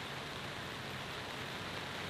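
Steady rain falling at a campsite in Kintamani, Bali: an even, unbroken hiss of rainfall with no voices.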